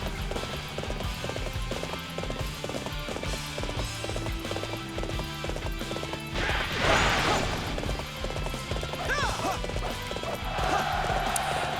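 Horseback combat in Dynasty Warriors 7: rapid, rhythmic galloping hooves with occasional whinnies and clashing weapon hits, set against a steady game soundtrack at moderate volume.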